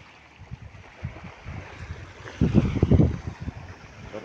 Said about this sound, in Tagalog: yan, medyo maliit ngayon ang alon.